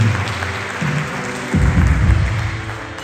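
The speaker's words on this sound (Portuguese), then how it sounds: "pode dar uma salva de palmas ao Senhor Jesus?" A church congregation applauds together in a steady, dense wash of clapping that swells louder about halfway through and stays full, with low music or a deep hum running underneath.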